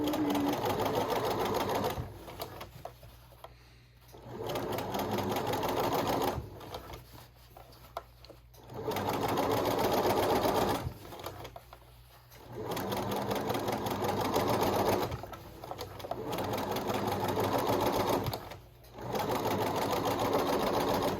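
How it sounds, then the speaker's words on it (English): A close sewing machine edge-stitches the crown of a bucket hat in repeated bursts of steady whirring, separated by brief pauses. "I'm going to sew until I'm on my old stitching line, then I'm going to backstitch, and forward"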